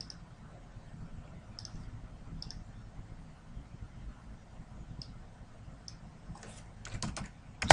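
A computer keyboard is typed on: sparse light keystrokes tap across a quiet room hum, then a quick flurry of louder clicks comes near the end.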